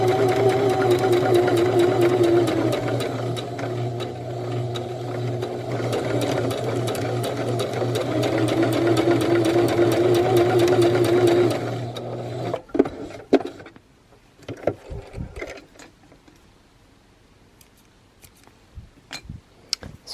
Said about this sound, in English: I'm going to sew the sides together